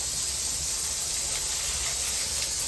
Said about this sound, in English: So we got to jet that out now, Rick